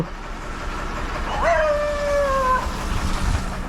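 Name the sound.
dog howling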